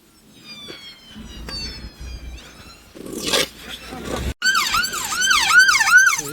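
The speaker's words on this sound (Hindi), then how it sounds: "वो पीछे तो एम्बुलेंस भी आ रही है, एम्बुलेंस आ रही।" An ambulance siren wails and yelps in snowbound, blizzard-stuck traffic, first faint and then growing louder and closer, while people talk nearby.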